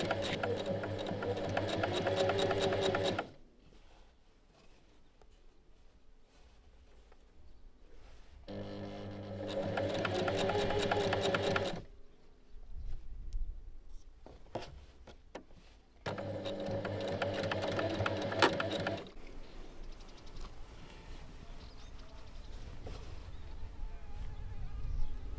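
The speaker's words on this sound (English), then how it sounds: "Then start sewing again, just after the pocket opening" A sewing machine stitches the pockets of wide-leg pants in three sustained runs, each a few seconds long, with quieter handling noise in the pauses between them.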